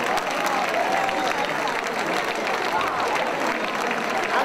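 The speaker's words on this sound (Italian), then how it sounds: "Ancora l'applauso di tutto Miglionico" A large outdoor crowd applauds at the finale of the Congiura dei Baroni 2016 festival in Miglionico, a sustained wash of clapping with a voice carrying over it.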